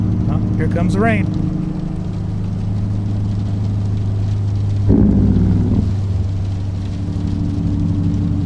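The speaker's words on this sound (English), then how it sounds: "here comes the rain" Steady rain hiss in American Truck Simulator blends with a low, constant heavy-haul truck engine drone, and a voice speaks briefly near the start.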